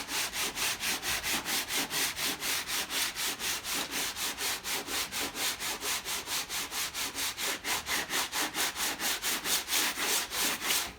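Coarse 36-grit sandpaper scrubs body filler on a Chevy pickup in a steady rhythm of quick, even back-and-forth strokes, close and continuous with no talking.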